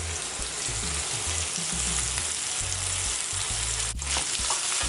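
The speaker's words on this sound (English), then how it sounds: "So now I'm about to just add it to the frying pan." Loud, continuous sizzling of saltfish frying in a pan for ackee and saltfish, with a dense crackle and a few low knocks underneath.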